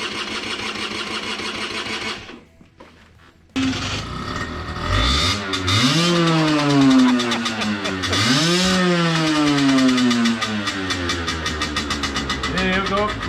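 A small lightweight motorbike engine catches after a brief pause, then revs up and down in rising and falling sweeps, loud and close, settling into a buzzy idle as people talk over it.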